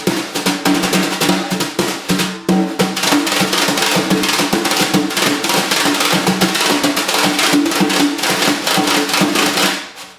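Drum brush rim roll played in a groove on a drum kit, a dense rapid stream of crisp clicks and taps with steady swishing beneath, close and continuous for about ten seconds.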